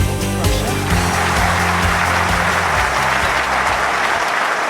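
A stadium crowd in the London 2012 Olympic video game applauds and cheers in a loud, steady wash of clapping, with rhythmic thumps and music running underneath for the whole stretch.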